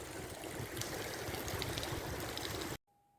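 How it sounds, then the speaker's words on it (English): Water running steadily from a leak where a tap was left on along the Water of Leith walkway, a constant close rushing flow that stops abruptly near the end. "it looks like we have a leak. Someone forgot to turn the tap off."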